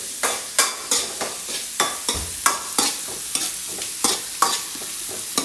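Onion, beans and capsicum are stir-fried in a hot pan for egg rice, with regular scraping stirs of a spatula every half second or so over a continuous close sizzle.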